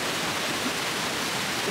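Rhine Falls in Switzerland roars as a dense, even wash of rushing water, steady and loud with no breaks or voices.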